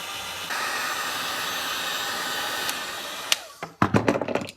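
Heat gun blowing hot air onto a golf shaft ferrule, a steady loud rushing hiss that holds for over three seconds, then cuts off and gives way to a few sharp handling clicks and knocks.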